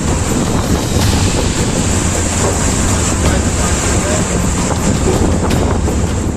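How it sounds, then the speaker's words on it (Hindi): Rough sea waves batter a sinking boat during Cyclone Tauktae, loud continuous surge and splashing mixed with heavy wind buffeting the microphone, with faint voices underneath. "समुद्र की तेज लहरों की टक्कर से जब बोट में पानी तेजी से भरने लगा"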